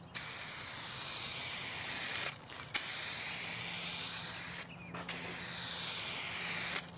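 Clear coat sprayed onto car headlights: three long, loud passes of steady aerosol hiss, each about two seconds, split by short pauses, close to the listener with no talking.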